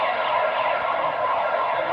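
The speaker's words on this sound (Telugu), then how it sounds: "మా అపార్ట్మెంట్ వాళ్ళే అందరు లోపలికి వెళ్ళాలని ఇలా సైరన్ లాగా ఏదో పెడుతున్నారు ఫ్రెండ్స్" An apartment complex's warning siren, resembling an ambulance siren, sounds as a continuous steady wail heard alone, without pauses or talk.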